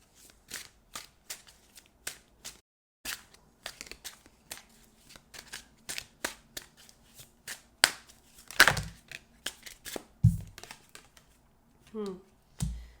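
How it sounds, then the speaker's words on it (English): Tarot cards are shuffled and handled at close range in a quiet room, giving a steady run of soft, crisp riffles and taps, with a few louder snaps and thumps toward the end. "Let's get a few more cards for some more advice."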